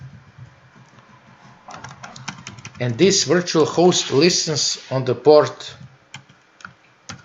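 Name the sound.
typing on a computer keyboard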